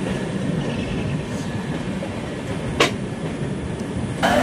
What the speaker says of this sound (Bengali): আমাদের ট্রেন ঢুকছে এখন ফালাকাটাতে।